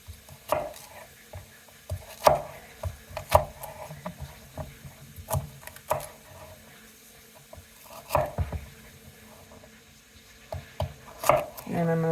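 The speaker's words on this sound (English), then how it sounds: "I try to cut these up as small as I can" Knife chopping celery stalks on a cutting board, a run of sharp irregular close chops with short pauses between bursts.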